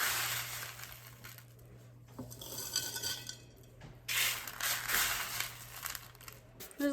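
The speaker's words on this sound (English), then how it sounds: "And now we have filled our glass jar full of granola" Homemade granola poured and dropped into a glass jar, rattling and crunching in bursts of clinks and rustles, close up over a faint steady low hum.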